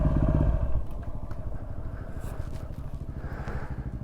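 A struggling motorcycle engine runs at a rough idle on a desert outback trip, a close, steady low putter with a brief louder rev at the start.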